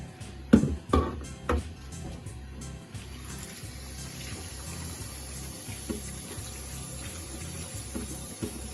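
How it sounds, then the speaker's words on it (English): Lamb meat being washed by hand under a running tap, a few sharp splashes and handling knocks at first, then a steady close stream of water with gentle sloshing. "I need to wash your meat properly"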